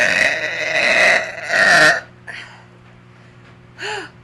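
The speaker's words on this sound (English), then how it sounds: "Look what you made me do. You made me burp." A woman lets out two loud, deep burps in quick succession, followed by a fainter short one after a pause, heard close and alone.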